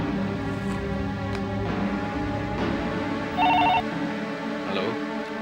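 A telephone rings once in a short electronic burst partway through a Hindi TV drama scene, heard over background music and ambience.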